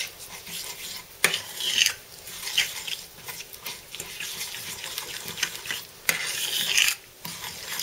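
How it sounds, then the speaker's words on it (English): Sugar and coconut nectar are stirred into melted butter in a pan, a close, scraping, rasping swish of the utensil with a few sharper knocks against the pan, no talking. "The sugar and the coconut nectar are going to go into the butter. And then we're going to stir that together"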